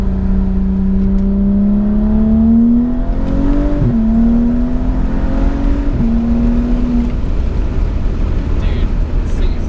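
A tuned 350 whp 2011 BMW 135i pulls hard through its gears, the engine note rising steadily with brief dips at each shift, loud and close from inside the cabin.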